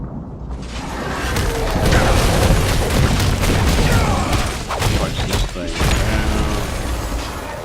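A fort is destroyed in a video game with a booming explosion and rumbling crashes, followed by crackling debris and mechanical clatter.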